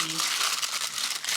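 Tea gift packaging being unwrapped, a steady stream of close crinkling and rustling paper or plastic lasting the whole moment, with a voice briefly audible at the start.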